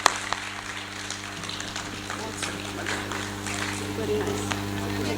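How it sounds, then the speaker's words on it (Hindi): Audience applause at a Hindi poetry recital, a dense patter of many hands clapping at a moderate distance, running steadily with a low hum underneath and a voice over it. "जोरदार तालियां, जोरदार तालियां"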